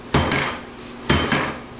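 Two sharp metallic taps of a hammer that is not a body hammer striking metal, each with a brief ringing decay, about a second apart, close and fairly loud with no talk.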